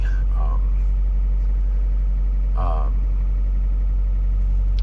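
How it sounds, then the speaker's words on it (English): A 1995 Geo Tracker engine idles at a lowered speed after an air bypass screw adjustment, a loud, steady low hum with a couple of brief, faint mid-pitched sounds over it. "I get it adjusted down where the idle is around 700-800 RPM"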